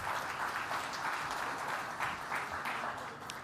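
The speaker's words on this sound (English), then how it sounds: "Big round of applause." An audience at a customer-experience industry event applauds after a demonstration, a soft, distant, even wash of clapping that continues throughout and fades slightly at the end.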